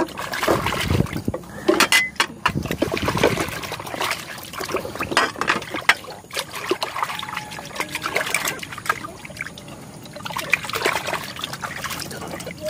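Water trickling and splashing steadily, with some faint voices and scattered clatter in the background.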